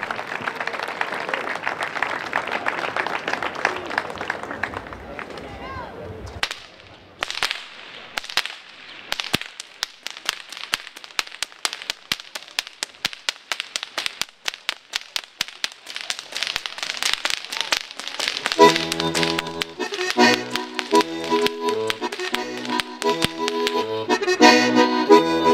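Traditional Sardinian whip crackers, young performers at a folk festival in Buggerru, deliver a rapid series of sharp cracks at irregular intervals, after crowd applause; the cracking later blends with cheering and rhythmic clapping along with folk music.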